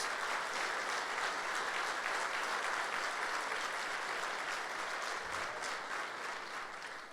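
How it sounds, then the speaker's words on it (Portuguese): A congregation at a Sunday church service applauds for Jesus, a continuous, even roar of clapping from a large crowd, fairly distant and sustained to the end. "Dá um aplauso a Jesus."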